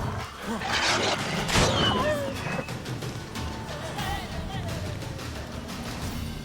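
In The Witcher 3, wolves snarl, growl and yelp during a fight, with sword-combat clatter, in a busy, fairly loud game mix, while a person talks over it.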